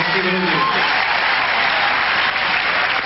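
Crowd at a 1996 Indianapolis tennis final, Sampras against Ivanisevic, applauding an ace with steady, dense clapping that fills the whole stretch, loud and sustained, with a brief voice near the start.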